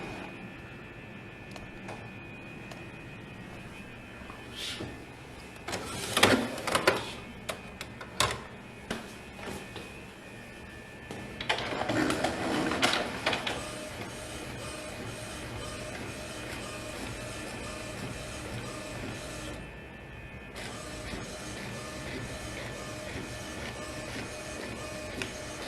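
Epson EcoTank printer printing a tattoo stencil, with a steady mechanical whir, clicking paper feed and bursts of louder print-head movement, heard close with no talk.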